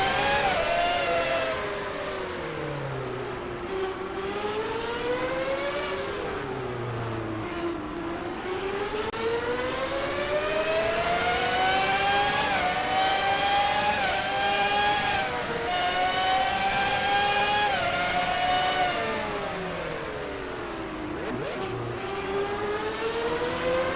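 An on-board race car engine from a sim racing video game on the St. Petersburg street circuit drones continuously, its pitch climbing and dropping repeatedly through gear changes and braking zones, loud and close with no talk.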